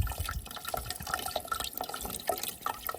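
Water from a playground drinking fountain runs steadily while figs are washed under it, a close, continuous splashing and dripping with no talk over it.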